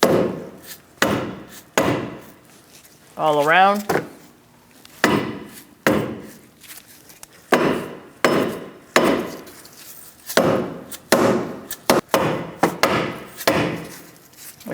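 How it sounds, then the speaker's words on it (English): A dead blow hammer strikes a 2000-2006 Mini Cooper front wheel hub again and again, giving a run of firm, dull, irregularly spaced taps with a brief squeak partway through. "So now we're going to use a dead blow hammer."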